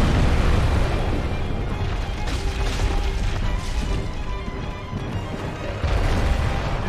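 The Stray Demon's plunging explosion attack in a dark fantasy video game, a long, loud rumbling blast with crashing debris and booming roar sustained over several seconds, dense and close.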